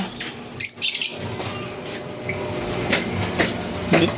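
Small caged pet birds at a pet market give scattered short chirps and squawks up close, amid clattering cage and handling noises, with no talking.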